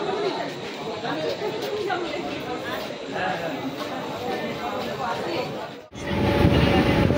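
A train rumbles and rattles steadily from inside a carriage, with people chattering over the noise; the sound shifts abruptly near the end.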